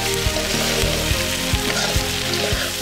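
Meat sizzles steadily in a hot kadai with spices in an Assamese home kitchen, a loud continuous frying hiss with occasional soft stirring knocks, close and without talk.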